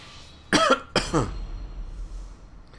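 A person coughs twice in quick succession, sharp and close, with a low background hum continuing afterward.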